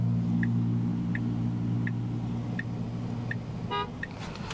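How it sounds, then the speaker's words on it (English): A car horn honks briefly in the distance over a steady low engine hum inside a Tesla driving in Phoenix, with faint repeated beeps ticking in the background. "we're getting honked at"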